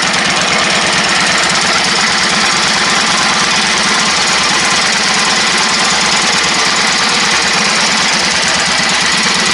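An old engine that sat untouched for nearly a year runs loud and close with a rough, knocking, rapid chug. The rattling runs steady and continuous throughout, with no talk over it.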